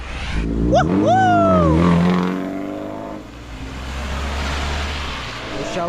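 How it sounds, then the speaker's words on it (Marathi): Vehicles pass loudly and close on a road in the rain, engines revving and rising then falling in pitch as they go by, over a steady hiss of rain and traffic. "इकडे बघा खतरनाक गाड्या येऊ राहिल्या कचाकच कचाकच"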